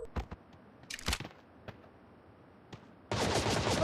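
Video game gunfire in a bot match, a few sharp isolated shots spaced irregularly, then a dense loud burst of rapid firing in the final second, with no talk.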